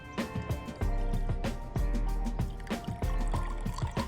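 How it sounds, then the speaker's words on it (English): Homemade hummingbird food pours from a container into a glass jar, a soft liquid trickle with faint glugs and clinks at moderate distance, steady throughout. "I'm gonna go ahead and pour my extra into my"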